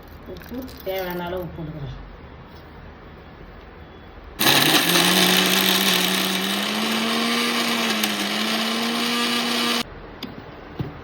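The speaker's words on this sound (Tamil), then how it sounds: "கொஞ்சம் கொஞ்சமாக போட்டு அரைச்சி வந்துட்டேன்" A kitchen mixer grinder whirs loudly for about five seconds as it grinds thuthuvalai (Solanum trilobatum) chutney. A voice is heard briefly before the motor starts.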